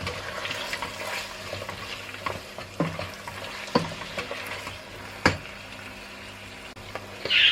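Minced meat and okra sautéing in a pan with salt added, a soft steady sizzle under intermittent spoon scrapes and a few sharp clinks against the pan, close and fairly quiet.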